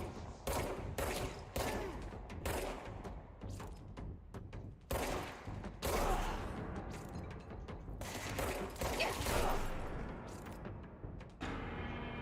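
Gunfire in the video game Control comes in loud clustered bursts of sharp shots, with metallic mechanism clatter and heavy impacts in the gaps between volleys, mostly free of talk.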